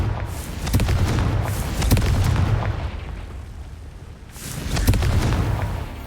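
Confringo spell explosions in a wizard video game, a rapid series of sharp booming blasts with rumbling tails, loud and close, coming in two bursts about four seconds apart.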